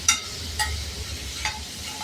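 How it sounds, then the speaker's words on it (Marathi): Paneer sautéed with turmeric in a pan over low heat, with a faint sizzle under a few soft, widely spaced stirring scrapes. "सॉटे करून घ्यायचं आहे पनीर. आणि याच्यामध्ये ना मी हळद टाकणार आहे."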